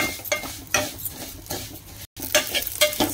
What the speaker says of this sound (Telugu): సో ఇప్పుడు సేమియా కూడా ఫ్రై చేస్తున్నా.